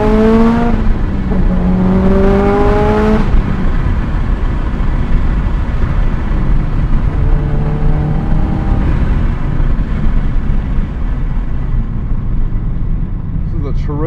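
A 2005 Subaru WRX STi with its EJ207 engine pulling hard under full acceleration, loud and close from inside the cabin, revs climbing through a gear change then rising steadily again as someone talks over it.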